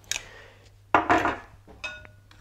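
A spoon stirs ketchup and barbecue sauce together for a sweet-and-sour chicken sauce, giving a few short scraping and clinking strokes against the bowl, close and quiet, with no talk.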